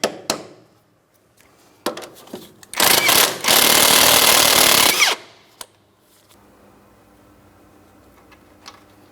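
An outer tie rod end on a 2011-2026 Mitsubishi Outlander being worked into position, starting with a few sharp close taps before a loud sustained buzzing tool burst of about two seconds. A quiet hum follows.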